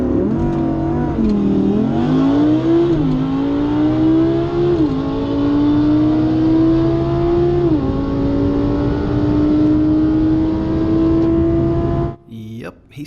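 A dedicated drag-build F-body Camaro on slicks roars down a drag strip, its engine loud and close, rising through several gear shifts in a sustained wailing pull before cutting off abruptly at the end.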